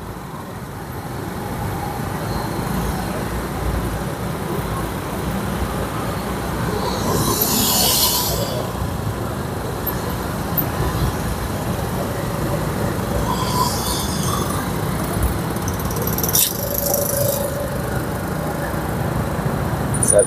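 Steady road traffic rumbling past on a busy street in Sungguminasa, Gowa, with a continuous broadband engine and tyre roar and a few brief louder passes, no talk.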